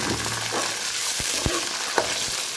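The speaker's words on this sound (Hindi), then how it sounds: "प्याज हल्के जो फ्राई हो गए" Onions lightly frying in a pan with cumin and cinnamon, giving a steady, close hiss of sizzling oil broken by a few soft clinks and stirring knocks.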